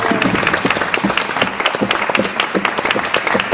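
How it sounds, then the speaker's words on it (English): Applause after a New Zealand wheelchair rugby live event, steady dense clapping from a crowd filling the clip, fairly loud and close, with no talk over it. "Big round of applause, guys"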